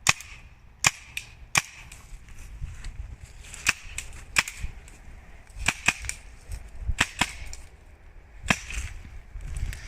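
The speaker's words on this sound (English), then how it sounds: "That was 9 paint rounds. Quite quick, and even then, no issues." A CO2-powered paintball marker fitted with a 12 gram CO2 adapter fires nine paint rounds: sharp separate pops in an uneven quick series, each with a faint splat or knock after, over quiet outdoor background.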